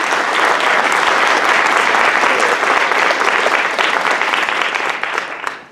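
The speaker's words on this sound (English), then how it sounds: "Let's clap for them on the stage" Audience applause for faculty on stage at a university English department convocation, a dense, sustained wash of many hands clapping that stays loud before tapering slightly near the end.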